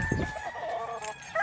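A white Kelso gamecock rooster crows once, close and loud, its call starting with a harsh burst and then holding a long strained note with no other sounds around it.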